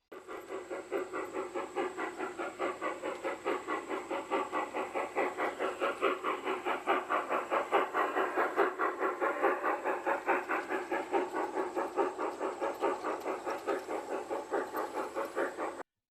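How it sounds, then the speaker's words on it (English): G-gauge model trains run on a raised garden railroad layout among miniature plants and buildings, giving a rapid steady rhythmic clatter of small wheels with a faint high tone throughout, moderately near and without voices. "G-gauge model trains wind in and out through miniature plants and buildings on a raised layout."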